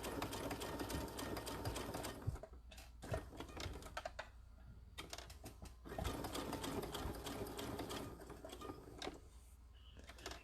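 A sewing machine stitches fabric in two bursts of rapid, rattling stitching, close and loud, separated by a brief pause for pivoting with a few soft clicks.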